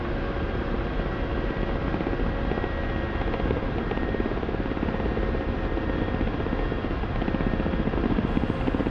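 A military helicopter in the DCS flight simulator flies at about 80 knots, its rotor beating in a steady, loud, close chop over a droning turbine hum that holds constant throughout.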